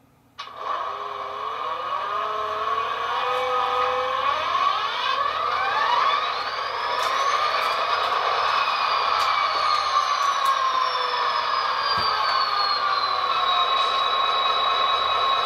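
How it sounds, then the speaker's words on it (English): An Athearn SD40T-2 tunnel motor HO scale model locomotive starts up with a sound decoder, a rising electronic whine that climbs steadily in pitch, then settles into a sustained, fairly loud mechanical drone. "We'll go ahead and fire up the locomotive."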